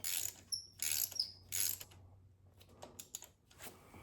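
Socket ratchet tightening a spark plug on a 2013–2015 Toyota RAV4, giving a few quick clicking bursts near the start followed by fainter scattered clicks and handling sounds.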